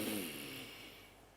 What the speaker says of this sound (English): So you breathe in through your nose,